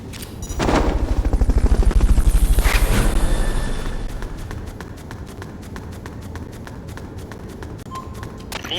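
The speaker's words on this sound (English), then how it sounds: "Fulton recovered a helicopter." In the Metal Gear Solid video game, a helicopter is carried off by Fulton recovery: a loud rushing whoosh swells over a few seconds, then fades into a lighter, rattling mechanical clatter.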